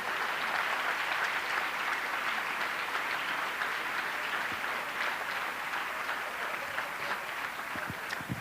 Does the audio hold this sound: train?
no